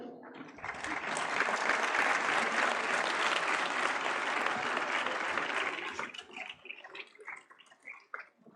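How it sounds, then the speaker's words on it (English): A large audience at an award ceremony in a hall applauds loudly and continuously for several seconds, then the clapping thins out into scattered individual claps before dying away. "Please clap for them."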